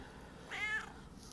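A fat, gluttonous house cat gives a single short meow, clear against a quiet room with no talking.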